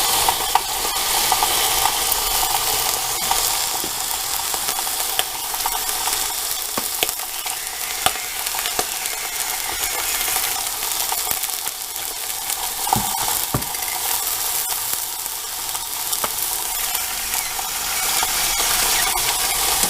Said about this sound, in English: Hear the sizzle here.